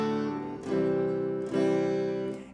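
A dry electric guitar with no chorus effect plays clean sustained notes, three struck phrases ringing out close and clear with no voice over them.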